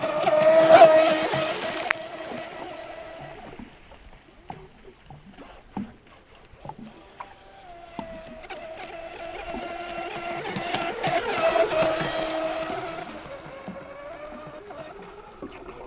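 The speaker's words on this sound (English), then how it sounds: "And you can see this boat is really quick." A small Pro Boat Shockwave 26 RC speedboat engine whines steadily on a lake, fading as it moves away and rising again as it passes close, with water splashing.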